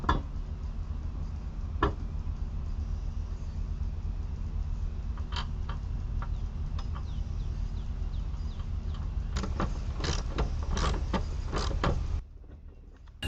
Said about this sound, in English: Reinstall the washer and the nut with a 1-inch socket.